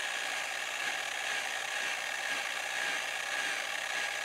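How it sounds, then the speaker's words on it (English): Steady whirring and ratcheting from a screwdriver pressed across the spinning wool pad of a polisher while polishing car clear coat, a continuous close buzzing scrape with no pauses and no talking. "you make sure you put the screwdriver and run it across the wool pad on the side that's going away from you"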